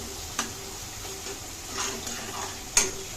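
Crushed garlic and spices sizzle softly in a pan with a little water while a spoon stirs, scraping the pan in three distinct clinks over the low, steady frying hiss.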